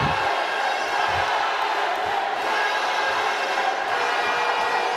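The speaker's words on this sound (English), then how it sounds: "you hear the crowd going wild" A large crowd cheering and roaring continuously at a women's university basketball game in an arena, a dense wall of voices with occasional whoops, steady and loud throughout.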